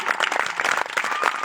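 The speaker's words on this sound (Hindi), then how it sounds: "इनके लिए तालियां बिल्कुल जोरों शोरों से।" Audience applause at a Ravidas Jayanti speech event, a dense burst of steady clapping from a crowd that fills the whole moment at close range with no talk over it.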